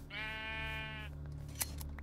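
A single sheep in a video game gives one clear, wavering bleat lasting about a second, followed by a faint click and quiet game ambience.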